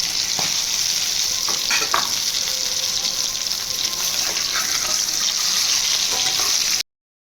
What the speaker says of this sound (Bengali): গ্যাসটা লো করে ভাজতে হবে, নাহলে ওপরটা জ্বলে যাবে আর নিচটা ভেতরটা কাঁচা থেকে যাবে।